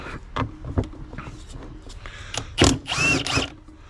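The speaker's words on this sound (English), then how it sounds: "this is a godsend, this impact driver" An impact driver removing bolts from the rear drive hub of a 2007 Suzuki V-Strom 1000, giving several short rattling hammering bursts, close and fairly loud, with metallic clinks in between.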